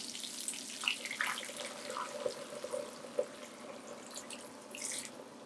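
Chicken stock poured into a pan of potatoes set to braise, a steady liquid trickle with a few small splashes and drips, fairly faint and close, with no talking.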